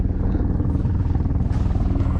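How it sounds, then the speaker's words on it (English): A helicopter hovers low over a reservoir while it refills with water, its steady rotor chop loud and continuous throughout. "Helicopter's coming right there, and he's gonna refill right here."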